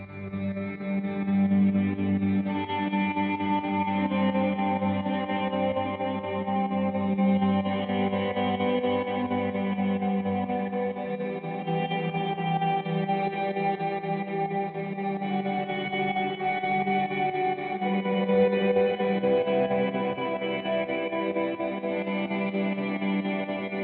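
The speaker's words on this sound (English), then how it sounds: "it kind of creates this synthy tremolo effect" An electric guitar through a pedalboard, drenched in wet reverb from a Strymon Flint, pulses with a wobbling tremolo, producing a sustained, synth-like wash of tone with no talking.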